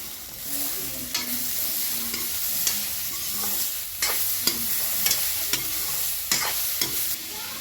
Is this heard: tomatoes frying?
yes